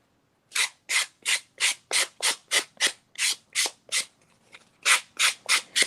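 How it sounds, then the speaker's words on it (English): A sanding block rubs rhythmically on a Post-it note clipboard, about seventeen even, scratchy strokes at a steady pace with one short pause, close and fairly loud, no talking. "Now I'm going to take the sanding block."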